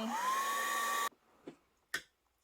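A hair dryer blows steadily and loudly on freshly painted watercolor flower leaves for about a second, then cuts off abruptly, leaving a few faint handling clicks.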